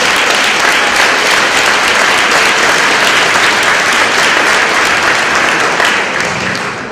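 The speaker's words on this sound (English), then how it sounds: "can we please give all of our churches a round of applause?" Steady, dense applause from a large audience at a Black History Month banquet and awards event fills the room, holding loud and even before easing slightly at the end.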